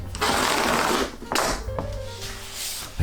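Sheets of printed rice paper being cut to notebook size for bookbinding, a dense papery crunch and rasp in two or three long strokes, close and fairly loud, with a few light taps between.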